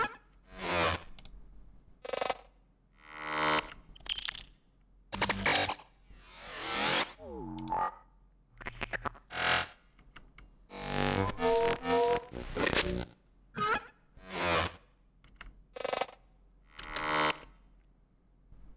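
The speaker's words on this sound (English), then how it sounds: "I have some filler sounds, some glitchy sounds from glitch machines." Glitchy filler sounds from Glitch Machines, panned and pitch-automated in a beat production, arrive as bursts of stuttering digital noise, swept tones and clicks. Sharp fragments separated by short gaps fill the passage with no voices.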